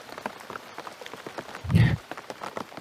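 Rain falls steadily in a Filipino horror audio drama, a soft continuous patter with a brief louder swell of heavier rainfall near the middle, heard alone without voices.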